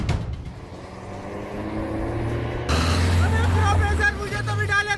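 A car's engine idles and then swells louder as the vehicle pulls away, with voices talking over the motor.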